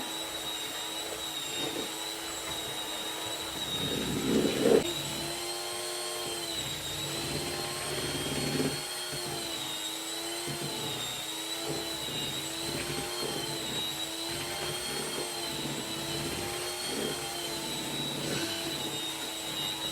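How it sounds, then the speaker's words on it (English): Electric stand mixer beating butter and sugar in a bowl for cupcakes, a steady whirring motor drone with harmonic whine that runs throughout, with brief louder bumps near the start. "I'm going to start up the mixer slow"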